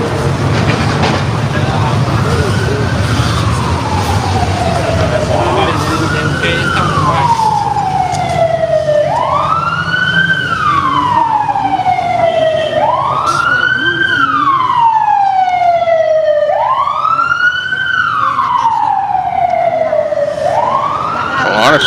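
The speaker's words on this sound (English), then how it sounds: "That sounds like a fire truck over here." A fire truck siren wails in slow, repeating rising-and-falling sweeps, loud and fairly close, over a low rumble of traffic.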